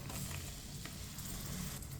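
Washed raisins drop into a pan of frying moong dal halwa. A steady, dense sizzle holds throughout, with faint stirring scrapes, quiet and close and without talk.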